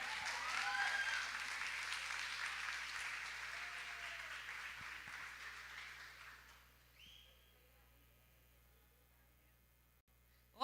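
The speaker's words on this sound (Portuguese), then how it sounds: "Ô, Glória, aplauda de novo aí" A women's church congregation applauds steadily and loudly, the clapping fading out to near silence after several seconds.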